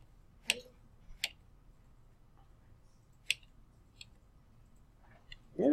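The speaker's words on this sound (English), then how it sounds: "if you click on the arrow on the keyboard, you can change these blending modes" Sharp, isolated keyboard arrow-key clicks, four or five separate taps spaced irregularly over near silence, while blending modes are changed in an image editor.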